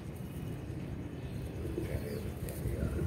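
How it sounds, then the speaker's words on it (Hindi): Pigeons coo softly in a faint, low murmur over steady background noise, with distant traffic and no clear talk. "चंगे कबूतर लैके"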